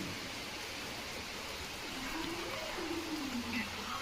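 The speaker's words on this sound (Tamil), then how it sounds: "இப்போ மழை வருது" Rain falls outside as a steady, soft hiss of broadband noise, faint and even throughout, with a brief voice-like murmur partway through.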